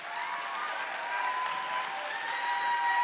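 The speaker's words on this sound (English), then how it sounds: "Clap your hands to that beautiful man" A live audience at a Worldcon Glasgow 2024 stage show claps in a steady, dense wash of applause, fairly even in loudness and swelling slightly toward the close, with no voices.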